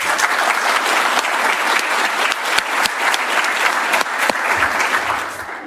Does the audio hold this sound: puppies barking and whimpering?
no